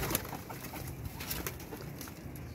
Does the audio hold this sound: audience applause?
no